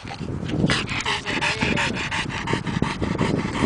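A tired dog pants hard and steady, quick rhythmic breaths close to the microphone, continuing throughout without any talk.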